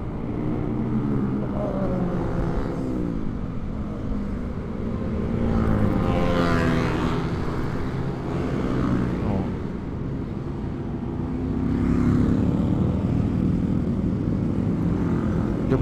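Motorcycle engines roar and rev loudly in a busy street gathering, a thick, droning engine noise that swells in waves, with voices talking over it.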